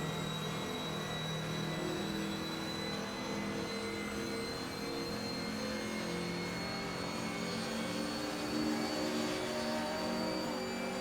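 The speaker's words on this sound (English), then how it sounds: "Oh, I love the sound of that as the car's going past." Steady engine roar from race cars speeding along in Assetto Corsa, a continuous whirring drone with slight swells as vehicles pass close by.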